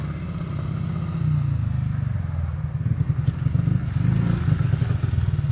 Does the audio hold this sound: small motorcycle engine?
yes